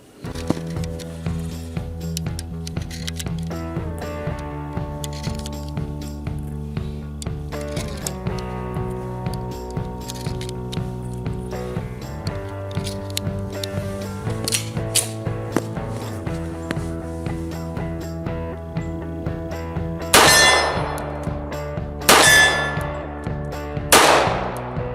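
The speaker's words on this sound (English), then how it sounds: "let's just put some rounds down range and see how it feels" An SDS1911 .45 ACP pistol is test fired outdoors, with three sharp, loud shots near the end standing out over steady, tonal background music.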